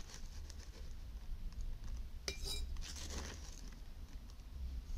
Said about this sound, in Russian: На литровую банку кладем примерно 5 столовых ложек без верха суперфосфата.